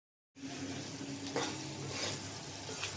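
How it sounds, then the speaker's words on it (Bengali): After a brief silence, potatoes in frying spice paste for an egg and potato curry burst into a steady, close sizzle, with a couple of soft stirring scrapes and no speech. "একটু নাড়াচাড়া দিয়ে দেই।"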